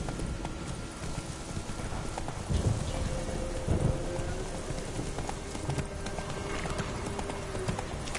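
Horse hooves clip-clop at a steady riding rhythm in The Witcher 3, set against a constant bed of rain and ambient game background, the hoofbeats fairly close and even in tempo.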